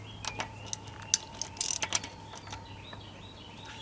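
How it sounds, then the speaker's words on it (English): A ratchet with a 10mm socket works the hub bolts on a 1994 Toyota 4Runner's manual locking hub, giving bursts of close, crisp clicking over a steady low background hum. "we'll get us a 10mm socket and we will remove the fastening bolts"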